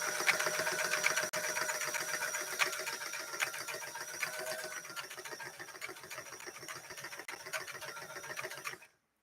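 A Singer 328K sewing machine stitching a zigzag runs steadily and close for about nine seconds, a fast, even mechanical whirr and needle clatter with a bright hum, then stops abruptly.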